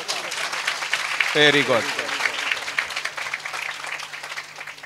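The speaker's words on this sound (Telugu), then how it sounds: "గట్టిగా చప్పట్లు కొట్టాలా?" Church congregation clapping loudly at a Christmas worship service, a dense burst of applause under a man's brief spoken words.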